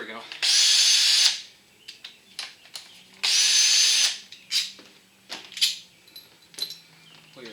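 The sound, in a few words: power drill running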